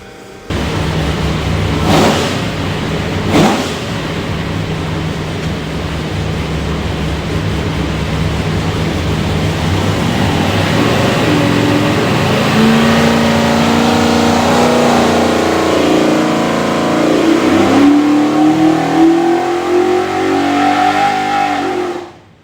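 A Borla stack-injected 427ci Ford FE V8 built for a Shelby Cobra runs hard on an engine dyno, a loud, sustained roar whose pitch climbs steadily through the pull before cutting off sharply.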